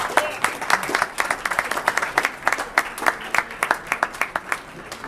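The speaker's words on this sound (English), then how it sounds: "Give Gary Smith a round of applause" Audience applause for a speaker at a media holiday luncheon, steady clapping from a room of guests lasting the full stretch, fairly close and even, with faint voices mixed underneath.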